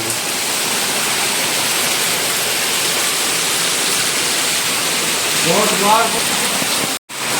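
Heavy slanting downpour with rushing floodwater in Junagadh, a dense continuous roar filling the whole scene, loud and close; a voice speaks briefly near the end before a short dropout.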